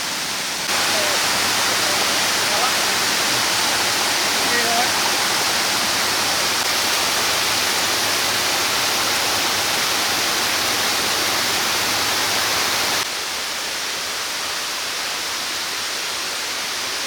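A rainy-season waterfall on a river in Vietnam pours in a steady, loud, broadband rush of falling water that continues unbroken, with no voices over it.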